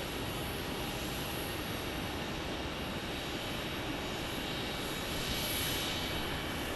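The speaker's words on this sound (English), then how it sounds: "looks like we got an A321neo from Delta" A Delta Airbus A321neo jet runs steadily at Phoenix Sky Harbor, a continuous, even engine roar with a faint high whine above it, heard alone without talk.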